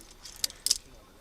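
Metal climbing nuts, offset types for aid soloing, clink and jangle together on a rack in two short, faint bright rattles over quiet background.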